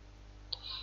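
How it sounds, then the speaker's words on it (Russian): A single sharp computer mouse click, near and brief, followed by a faint airy hiss over a quiet background. "Кликаем."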